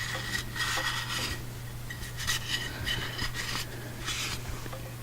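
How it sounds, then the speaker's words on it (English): The inside of a gas-powered bike's clutch cover is wiped and scrubbed clean, making soft irregular rubbing and scraping strokes over a steady low background hum, with no talk. "Now you clean out the inside of your clutch cover, just so all that dirt don't go back in there."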